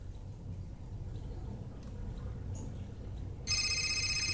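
A telephone rings in the video game Fahrenheit (Indigo Prophecy), starting suddenly near the end with a bright electronic trill over quiet ambient background.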